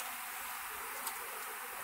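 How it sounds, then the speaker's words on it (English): A swarm of honeybees hums steadily as a dense, continuous buzz at moderate distance, with one brief closer sweep midway and no voices. "That'll explain the amount of bees."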